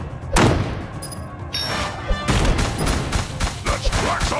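Explosions in the tower-defense game Kingdom Rush Vengeance, a rapid barrage of loud booms and crackling blasts that overlap and keep coming throughout, with game effects layered in.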